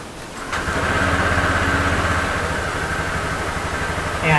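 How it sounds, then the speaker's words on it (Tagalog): A Honda Click 125i scooter engine cranks and fires up about half a second in, then settles into a close, steady idle with an even putter. "kailangan natin i-start yung motor natin"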